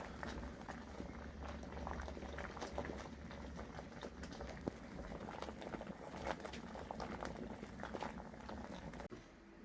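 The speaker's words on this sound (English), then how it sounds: "It's a good vigorous boil that is now." Wort rolls at a vigorous boil in a Klarstein Brewster homebrew kettle, a faint, continuous bubbling and gurgling hiss with occasional small pops, no voices.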